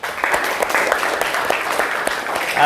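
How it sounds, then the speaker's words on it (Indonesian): A classroom of students applauds for about three seconds, dense steady clapping close by that fills the room without a pause. "Dan untuk semuanya kita beri aplaus semuanya."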